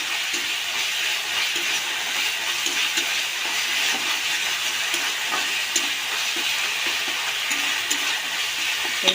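Spice mix frying in a pan for papaya curry, a steady, fairly loud crackling sizzle with a dense hiss. It runs unbroken for about nine seconds, with no talk over it.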